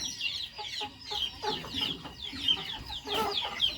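A hen clucks repeatedly in short, rhythmic bursts, close by, with other fowl murmuring in the background.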